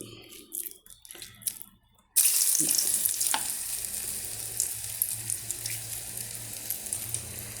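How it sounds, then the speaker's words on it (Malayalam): Flattened rice flour dough pieces for a teatime snack drop into hot oil, and a loud, steady, close sizzle starts suddenly after some quieter handling noises, continuing with faint bubbling crackles. "നമ്മുടെ എണ്ണ ചൂടായിട്ടുണ്ട് നമുക്ക് അതിലേക്കൊന്ന് പരത്തി പരത്തി ഓരോന്നായിട്ട് ഇട്ട് കൊടുക്കാം"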